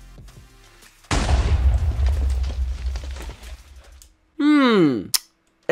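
A TNT cannon fires in the Minecraft video game: a sudden loud blast opens into a long rumbling roar of explosions lasting several seconds, followed by a short sweeping electronic whoosh and a final sharp hit.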